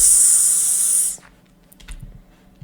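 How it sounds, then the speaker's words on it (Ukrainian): A Minecraft creeper hissing, a loud bright steady hiss lasting about a second that cuts off abruptly, followed by quiet game ambience with a few soft clicks. "найголовне не побачити крипера, тому що я бачив якийсь звук біля мене ось такий"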